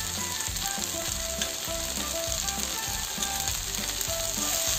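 Tuna thoran sizzles in a pan while it is stirred, a dense steady frying hiss with rhythmic scraping strokes from the spoon, close and loud throughout.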